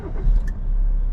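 The diesel engine of a 2025 Jeep Compass automatic starts with a brief crank, then settles into a low, close rumble that holds steady to the end.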